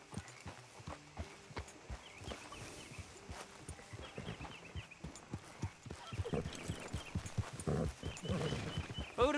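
Horse hooves clip-clop in a steady, brisk rhythm in Red Dead Redemption 2, growing louder and busier toward the end, with a faint horse snort and brief game voice in the background.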